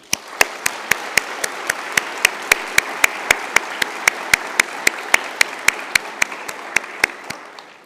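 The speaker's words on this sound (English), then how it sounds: "with a warm round of applause" Audience applause at a University of Galway winter conferring ceremony: one close clapper beats a steady, evenly spaced rhythm over a continuous wash of crowd clapping for about eight seconds.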